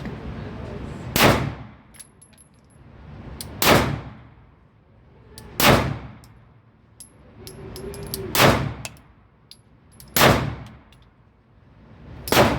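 Glock 48 MOS pistol shots ring out on a range, six sharp reports spaced a couple of seconds apart, each followed by a metallic steel target clang, fairly loud with quiet gaps between.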